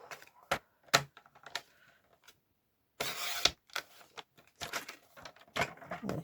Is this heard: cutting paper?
yes